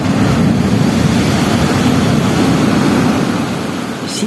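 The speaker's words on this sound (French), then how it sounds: "Et du mouvement des vagues, comme une respiration." Ocean waves near Carnac on a freezing day wash in a continuous, loud, close rumble of surf mixed with wind buffeting the microphone, easing slightly toward the end, with no voices.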